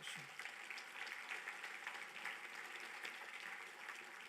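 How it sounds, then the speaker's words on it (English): A crowd at a Texas High School Football Hall of Fame induction ceremony applauds the inductees, with dense sustained clapping that stays steady and quite faint throughout. "Please give them a well-deserved round of applause"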